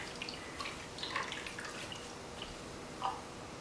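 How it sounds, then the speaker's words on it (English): Drips of liquid falling as homemade almond milk is squeezed from the nut pulp, a few quiet scattered drops and trickles over a soft background, with no voices. "So I've squeezed out all the water I can"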